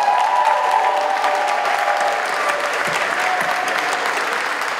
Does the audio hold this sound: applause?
yes